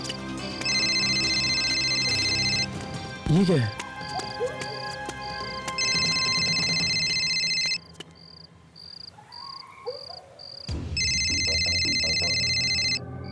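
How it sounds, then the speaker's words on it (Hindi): A mobile phone ringtone in a Hindi horror show plays in repeated bursts, a steady electronic trill with pauses between rings, over background music and a brief spoken question. "इसका फोन यहां क्या कर रहा है?"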